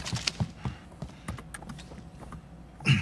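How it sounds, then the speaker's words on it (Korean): Footsteps inside a house in Call of Duty: Warzone, a series of soft irregular thuds and scuffs, fairly close, followed by a louder burst at the end. "발소리 들리는데?"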